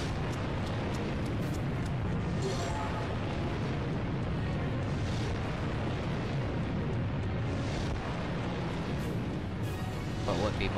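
Fire explosion effects at the Universal Studios Backdraft attraction fill the space with a continuous loud roaring rumble and bursts, with people speaking faintly beneath the noise.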